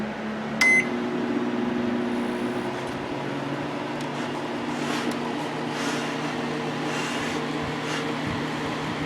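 A microwave oven runs during a repair test, a steady low hum with a short electronic beep near the start, continuous and close throughout.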